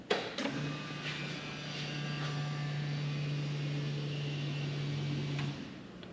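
An electric fuel pump primes in a Ford F100 pickup fitted with a Coyote engine swap, giving a faint, steady low hum that starts half a second in, runs about five seconds, then cuts off beneath quiet shop background noise.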